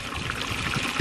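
Water runs into a plastic tote for mixing a nutrient solution, a short steady splashing trickle heard up close with no voices.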